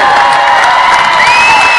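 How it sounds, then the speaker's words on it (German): Audience applause and cheering fill the whole stretch, a dense steady wash of clapping and shouts with whoops, loud and close, at a family gathering with grandpa present, no clear talk over it. "Applaus für den René!"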